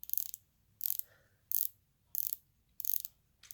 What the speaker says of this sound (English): The bezel is single direction rotating, which means it only rotates counterclockwise.